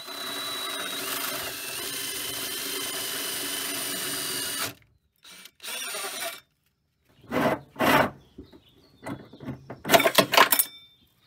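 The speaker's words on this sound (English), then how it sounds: "I definitely recommend using full-on goggles when you're drilling up underneath the van" Drill boring a 3-inch hole up through the underside of a van floor: a steady, loud grinding rasp for several seconds, then silence broken by short scraping and clattering bursts of loose debris and tool handling.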